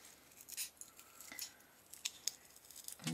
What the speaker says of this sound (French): donc je vais découper ça